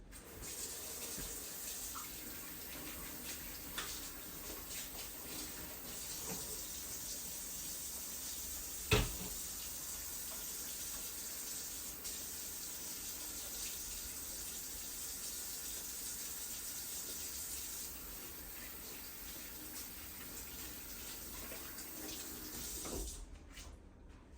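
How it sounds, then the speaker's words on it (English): A tap runs steadily at a sink as hands are washed under it, a soft continuous hiss of water with a sharp knock midway and a brief clunk near the end; no talking, fairly quiet. "I'm gonna wash my hands."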